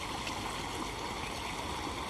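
Irrigation water flows into a farm field in an even, continuous rush and burble that stays steady throughout, with no voices.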